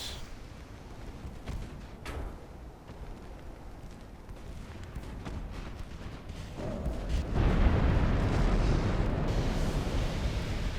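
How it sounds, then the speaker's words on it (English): A warship's ammunition detonates in Ultimate Admiral Dreadnoughts, with deep booming blasts building into a loud, sustained rumbling explosion toward the end, preceded by scattered distant gunfire thuds. "ammo detonation"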